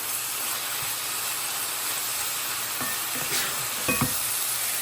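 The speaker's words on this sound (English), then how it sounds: "I want all of that to reduce down to nothing so we can get a little bit of char on those veggies" Ham and frozen vegetables fry in a pan as the last liquid cooks off, a steady close sizzle and hiss with a few light scrapes of stirring near the end.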